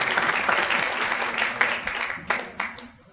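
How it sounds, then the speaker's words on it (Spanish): An audience at a forum applauds Carlos with full, sustained clapping from many hands that thins and tapers off toward the end, a few last claps trailing. "vamos a darle un fuerte aplauso, Carlos"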